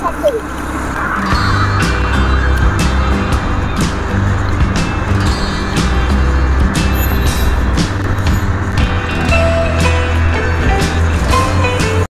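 A car drives steadily along a four-lane toll road near Bangalore, its engine and tire roar close and loud throughout, with wind buffeting and a few sharp ticks over the constant low rumble.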